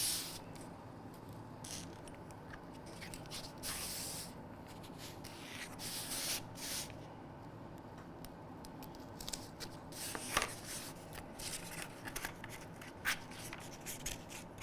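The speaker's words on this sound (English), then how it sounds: "take a piece of plastisate, pop the template on and draw around it." A pen scratches and rubs across plastazote foam as it is drawn around a template, with quiet, uneven strokes and small handling noises throughout.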